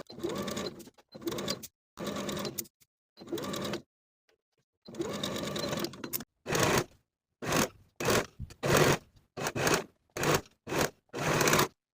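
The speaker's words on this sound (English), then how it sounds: "Now I'll sew to attach the sleeve with a 3/8 inch seam allowance" A sewing machine stitches a sleeve onto a bodice. It runs in a few longer steady bursts, pauses, then gives a string of short, evenly spaced runs, close and clear with no talk over it.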